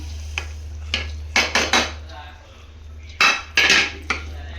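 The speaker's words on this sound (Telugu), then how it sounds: "ఇప్పుడు రవ్వ కూడా వేసేసుకుంటున్నాను." Wheat rava goes into a pot and is stirred with a metal spoon, giving bursts of scraping and clanking against the vessel over a low steady hum, with quiet gaps between strokes.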